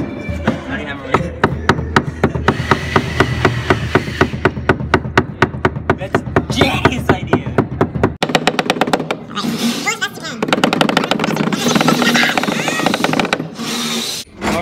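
Rapid, sharp hammer strikes land in quick succession, loud and close, with a brief pause partway through before the pounding resumes.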